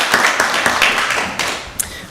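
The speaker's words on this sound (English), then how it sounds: "Let's give her a round of applause." Short burst of applause at a county board of commissioners meeting, a modest room of hands clapping briefly before fading into quieter murmur.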